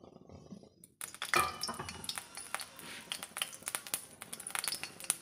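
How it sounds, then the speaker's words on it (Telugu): A little cooking oil poured into a pan while making Telugu ridge gourd peel chutney (beerakaya thokku pachadi), a soft trickle turning to quick crackling patter after a second of near silence, close and steady. "దీంట్లోనే కొద్దిగా ఆయిల్ పోసుకొని"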